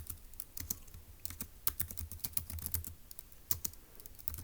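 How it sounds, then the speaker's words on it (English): Computer keyboard typing while notes are entered for a Turing Machine logic puzzle, a quiet, irregular run of close key taps and clacks heard alone, without speech. "let's go ahead and type that up in our notes in section F"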